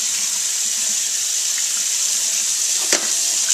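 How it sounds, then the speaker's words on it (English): Hot tap water running steadily from a faucet over a frozen soup container in a kitchen sink, a close, constant hissing splash with one brief knock near the end. "Just run it under some hot water until it pops out."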